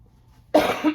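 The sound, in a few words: cough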